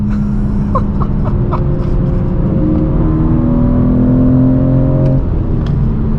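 A BMW M4 G82 with a six-speed manual driving on the road, its engine droning steadily from inside the cabin with shifting tonal whine and a rise in pitch, loud and continuous with no talk.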